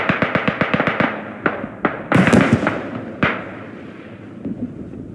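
Explosions in the video game Beyond The Wire: a rapid burst of sharp blasts followed by a few heavier, spaced booms with echoing tails that fade into a rumbling background.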